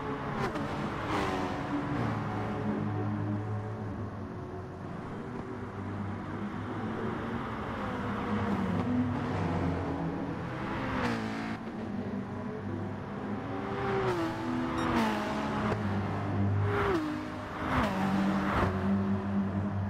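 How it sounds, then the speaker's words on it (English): A Porsche race car sweeps through S-bends at a 2019 race meeting, its engine roaring steadily and loudly, pitch climbing and dropping through repeated shifts and revs, with other cars' engine noise mixed in throughout. "Porsche flying through those S's"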